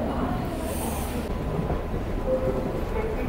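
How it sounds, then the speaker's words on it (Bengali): A train pulls out of Kharagpur Junction railway station, a steady close rumble of rolling carriages with faint squeals and wheel noise throughout, no talking. "আমার ট্রেন ছেড়ে দিল খড়গপুর থেকে"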